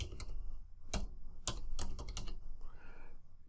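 Keystrokes on a computer keyboard entering a username, a quick irregular run of sharp clicks with a few pauses, close and fairly quiet, no talking.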